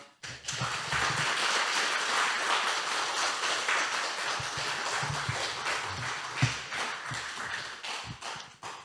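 A church congregation applauds at a Korean Sunday afternoon service, a continuous, fairly quiet patter of many hands clapping for about eight seconds with no voices over it.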